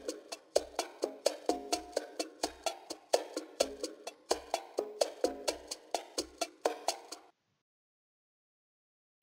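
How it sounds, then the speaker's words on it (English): Percussion loop from Looperman layered into a phonk beat. Crisp, clicky hits repeat in a quick, steady pattern with occasional low thumps, loud and up close, then the loop stops abruptly, leaving silence. "I added this percussion loop from Looperman"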